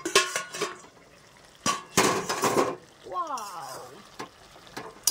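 A metal lid is lifted off a pot of boiling cabbage and potatoes, giving a few sharp clanks and rattles close by, then a brief wavering tone midway through.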